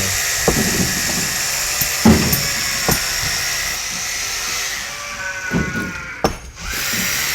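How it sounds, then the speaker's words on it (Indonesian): A loud, continuous power-drill whine runs throughout as the drill splits stone, punctuated by several sharp knocks and cracks, then briefly dips near the end. "untuk cara membelahnya dibantu pakai itu ya, alat bor ya, pakai bor"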